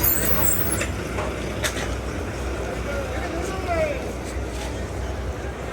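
A TNSTC bus running on the road at night, its engine and road rumble a steady loud drone from inside the cabin, with faint chatter and rattles over it.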